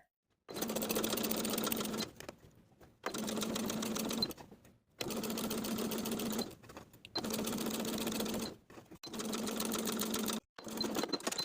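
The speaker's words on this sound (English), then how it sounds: "we're going to stitch in the ditch of the waistband seam from the finished side seam to the end of our pinning, backstitching to secure" A sewing machine stitches in the ditch along a linen shorts waistband seam and backstitches to secure it, running in five or six steady bursts separated by short pauses, close up with no voices.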